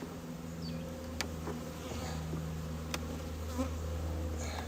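Honeybees buzz steadily around an opened hive during a February inspection, a continuous low droning hum with a few sharper passes of individual bees, alone and without talk.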